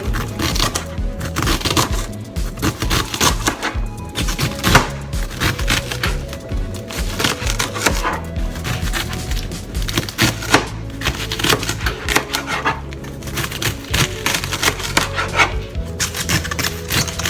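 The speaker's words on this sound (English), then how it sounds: "So you could cut your cabbage this way, or you could cut it this way" A knife chopping cabbage on a cutting board, a rapid, continuous run of close, crisp cuts and knocks without pauses, no voices.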